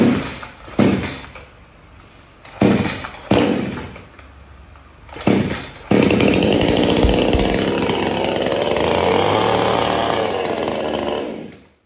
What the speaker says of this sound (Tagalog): Oxford chainsaw naman po, 22 inches.